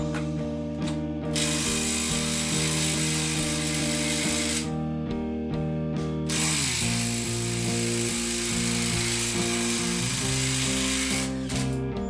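A battery impact wrench undoes nuts on a car gearbox in a long, loud, close mechanical buzz with rapid hammering, broken by short pauses and shifting pitch as each nut spins free.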